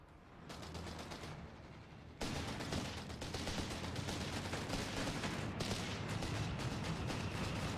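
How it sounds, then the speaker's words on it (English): A Stuka dive-bomber barrage in a strategy video game pounds a machine gun position, with dense continuous rattling bursts and blasts that surge loudly after a quieter opening and keep up to the end. "here goes my Stuka firing. It's decided to bombard the machine gun position, and the first Stuka barrage is perfect here"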